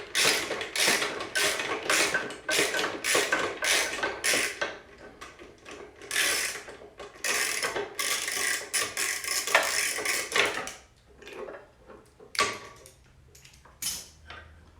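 Socket wrench removing the seat bolts on an Indian Scout Bobber, a rapid close ratcheting clicking in repeated bursts with short pauses between strokes.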